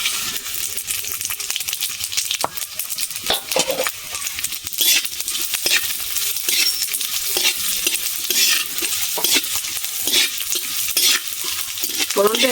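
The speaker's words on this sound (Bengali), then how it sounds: "ফোড়নটা একটু ভাজা হবে" Bengali five-spice tempering with torn dry red chillies fried in oil for a large batch of mango pickle, a loud continuous sizzle broken by frequent scraping and clattering stirs of a utensil against the pan.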